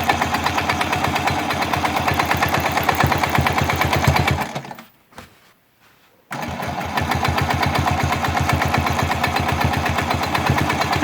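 A sewing machine free-motion quilting a whole-cloth baby quilt with a glide foot runs in a steady, fast mechanical chatter, stops briefly partway through, then starts up again at the same pace, loud and close.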